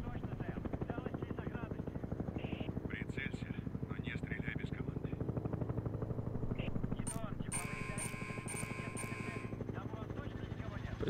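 A helicopter in the video game Call of Duty: Advanced Warfare thrums steadily with a constant rotor chop throughout, under people talking, with some brief high electronic tones near the end.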